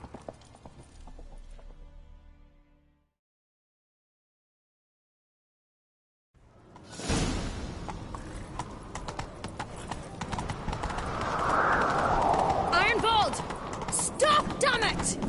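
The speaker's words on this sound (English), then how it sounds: "Grab a horse, we'll chase him down." Hooves clip-clop in a fast galloping rhythm after a brief silence, steady and close, with wind and scattered effects layered over the run; a horse galloping in The Witcher III: Wild Hunt video game.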